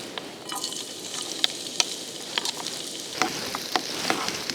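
Food sizzles steadily in hot oil in a pan for a second round of drinking snacks, cooked on a fishing trip, with sharp crackles and pops spread through a soft background hiss.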